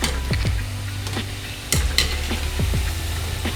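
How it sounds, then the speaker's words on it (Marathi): Onion bhaji fritters fry in hot oil, a constant sizzle broken by sharp clinks and scrapes of a utensil turning them in the pan, with no talking. "व्यवस्थित आपण भजी तळून घेणार आहोत म्हणजे कांदा आतून शिजला जाईल"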